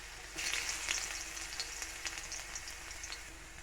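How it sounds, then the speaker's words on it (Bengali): Chopped garlic frying in oil, a dense, continuous close-up sizzle with fine crackling throughout and no voices. "এখন এই তেলে দিয়ে দিচ্ছি কুচনো রসুন রসুনটা আগে দিচ্ছি যাতে রসুনের ফ্লেভারটা বেরিয়ে যায়"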